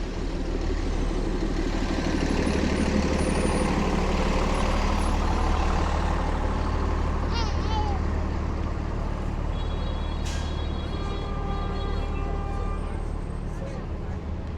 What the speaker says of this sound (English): I mean, this traffic is just a mess down here.